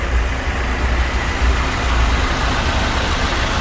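A 2019 Land Rover Velar salvage SUV runs steadily with a low, continuous engine rumble and broadband hum throughout, fairly loud and close, with no talking.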